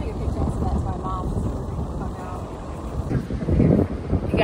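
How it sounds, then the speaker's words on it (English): Steady wind on a beach buffets the microphone with a low rumbling roar, gusting stronger toward the end, with faint voices beneath. "it's a little windy out here."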